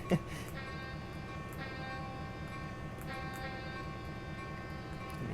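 An F7 locomotive's horn in Train Simulator 2015 on the Pine Creek Railroad: several steady chord-like blasts sounding in a row over a low rumbling engine, with no talking.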